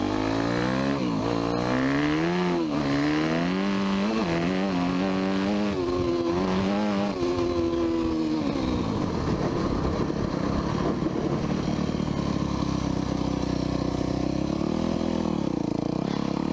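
A motorcycle rides fast on a track, its engine note rising and falling through loud revs before it brakes hard and slows, the engine dropping to a lower rumble near the end.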